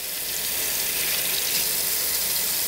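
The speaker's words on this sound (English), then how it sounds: "I pour a little cold water on it" Steady rush of cold water pouring from a kitchen tap onto a burned hand, a continuous, even splashing hiss with no pauses.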